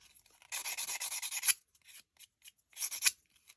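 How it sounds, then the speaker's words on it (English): A fingernail file scrapes the raised edges of a UV resin heart ornament in close, quiet bursts of quick rasping strokes, with a brief pause between two sets. "just get you a fingernail file and scrape them off like so"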